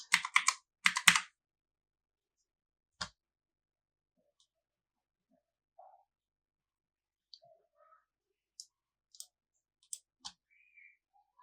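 Computer keyboard typing, a couple of quick bursts of close, crisp keystrokes at the start followed by sparse isolated clicks spread through otherwise quiet room.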